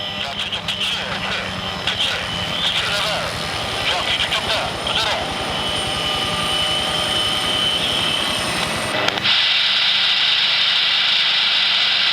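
A military helicopter on a second landing attempt during army aviation training roars steadily and loudly throughout, with the tone shifting abruptly near the end.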